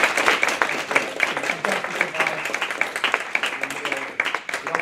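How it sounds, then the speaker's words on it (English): Audience at a graduate careers session bursts into sustained applause, dense clapping filling the room throughout at a steady, fairly loud level. "We just have a round of applause for"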